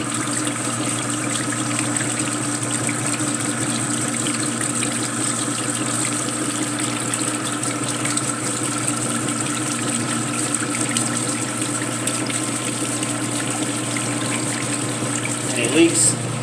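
The drain pump on a wringer washer runs with a steady mechanical hum while water is pushed out in a continuous rushing flow, loud and close from start to finish.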